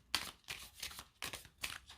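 Middia Lenormand cards being shuffled by hand: four crisp papery riffling bursts in a steady rhythm, close and fairly quiet, with no talking.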